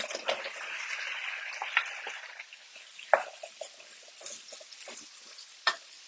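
Potatoes get stirred through a paste in a frying pan, soft scraping and clattering strokes with a few sharper knocks over a faint background sizzle, quiet and close.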